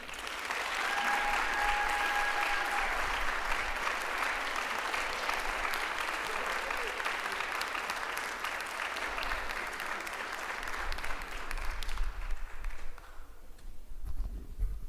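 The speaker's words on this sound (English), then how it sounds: "Can we have another round of applause for Alumni Hall?" Sustained applause from a large audience at a university Founder's and Honors Day convocation, steady dense clapping that stays strong for about twelve seconds before thinning into scattered claps at the end.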